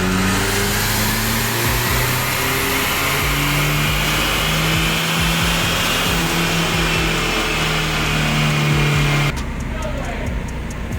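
Holley EFI-equipped engine making a dyno pull at 8 PSI boost, a loud sustained rising engine roar with climbing harmonics that builds for about nine seconds and then cuts off abruptly into a quieter tail.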